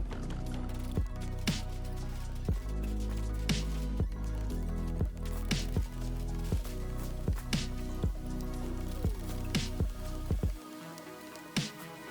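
Steady rain falls in the video game Rimworld, a soft continuous wash broken by regular sharp drip-like ticks about once a second, with no voices.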